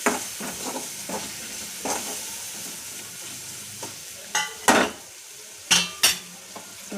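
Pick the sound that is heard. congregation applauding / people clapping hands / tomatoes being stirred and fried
tomatoes being stirred and fried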